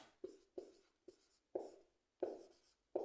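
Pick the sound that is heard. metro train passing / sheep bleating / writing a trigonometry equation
writing a trigonometry equation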